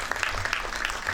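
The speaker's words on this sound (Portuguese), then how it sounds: "Batam palmas ao Wimba, então." Brief applause from an audience at a hip hop discussion event, a short burst of clustered hand claps, fairly close and moderately loud, lasting about a second.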